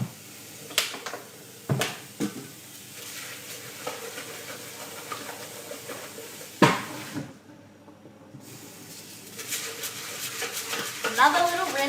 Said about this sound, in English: Just going to give my bowl a little rinse